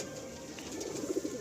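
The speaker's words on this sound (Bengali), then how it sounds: "সব মিলিয়ে মোটামুটি 25 থেকে 30টা পায়রা আছে তাই তো, বাচ্চা বাচ্চা মিলিয়ে?" Pigeons, kept in a large loft flock with young birds among them, give soft low cooing close by, a brief run of murmuring coos with no talk over it.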